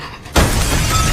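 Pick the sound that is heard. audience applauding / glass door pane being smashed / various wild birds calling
glass door pane being smashed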